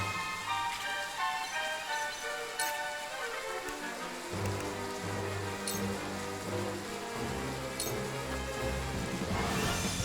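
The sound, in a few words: rain in a video game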